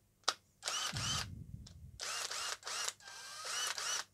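A cordless hammer drill, a secondhand unit with worn rubber grip, is test run in repeated short whirring bursts with brief pauses between them. The bursts are close and fairly loud, with one low thump partway through.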